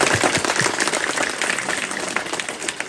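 Dense, steady applause from a group of young people at a farewell gathering after a dinner, a continuous crackle of many hands clapping that runs the whole time without a break.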